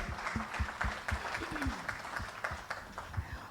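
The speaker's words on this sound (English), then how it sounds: "I think we deserve a huge round of applause" Audience applause breaks out at an event honouring women, a dense wash of many hands clapping steadily throughout, with some voices mixed underneath.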